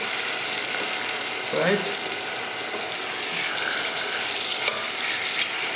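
Food sizzles and fries in a pan with a steady, dense hiss. A faint voice speaks briefly over it.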